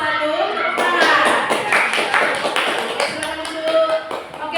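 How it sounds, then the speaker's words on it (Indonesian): Group clapping after a class group presentation, an uneven patter of hand claps with some louder close claps, while voices murmur underneath. "Tepuk tangan."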